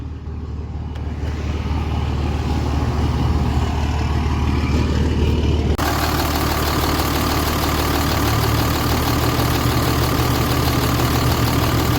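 A pickup truck engine idles in a steady, loud, low rumble that fills the whole stretch, close by and unbroken, with no voices over it.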